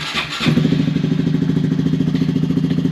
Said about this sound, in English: I'll start it up for you guys here.